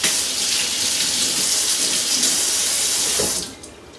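Tap water pours steadily into a kitchen sink while a lemon is rinsed during cooking prep. The hiss is loud and close, runs unbroken for about three seconds, then cuts off as the faucet closes.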